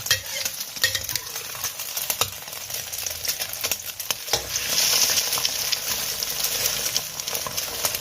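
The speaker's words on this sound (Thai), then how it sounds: "เดี๋ยวเราก็กลับไข่นะคะ เดี๋ยวกลับไปกลับมา ให้มันเหลืองค่ะ" A Thai omelette fries in a hot pan with oil, giving a loud continuous sizzle broken by scraping and stirring as the egg is turned over.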